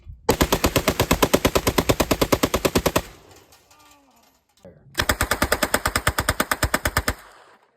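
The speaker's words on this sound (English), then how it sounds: "These were machine guns." A Browning 1919 machine gun fires two long automatic bursts of rapid, evenly spaced loud shots outdoors, separated by a quiet gap.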